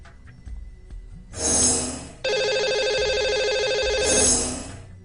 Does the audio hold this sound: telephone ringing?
yes